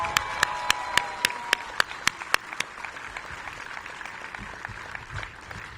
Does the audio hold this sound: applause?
yes